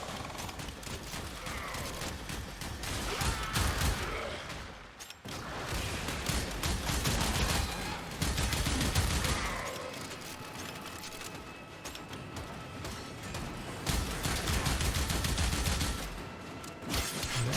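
Continuous heavy weapon fire from the Ignis fire weapon in Warframe, a dense roaring blast that surges and fades in long waves, loud and close, with short lulls.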